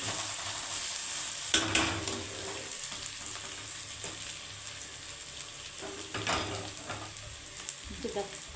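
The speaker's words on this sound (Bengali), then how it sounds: "আলু ভাজাটা কিন্তু হয়ে এসেছে" Potatoes and carrots stir-fry in a pan, a steady close sizzle broken by occasional scraping taps of the spatula against the pan throughout.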